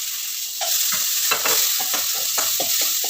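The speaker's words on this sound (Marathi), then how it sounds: "जे तूप टाकलेलं आहे तर तूप गरम झालेलं आहे, त्या तुपावरती आपण परतवून घेऊया" Pineapple pieces sauté in hot ghee, a steady close sizzle broken by repeated scraping stirs of a spatula against the pan, with no talking.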